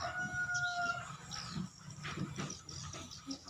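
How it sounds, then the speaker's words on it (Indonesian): Rooster crowing in the morning, a faint crow and some clucking from farmyard fowl at a distance amid quiet background noise. "Ayam berkokok di pagi hari."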